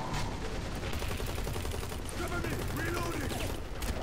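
In the video game Hazrd Ops, an upgraded gun fires in rapid bursts. The shots crackle densely and loudly, mixed with scattered mechanical clatter and layered game effects.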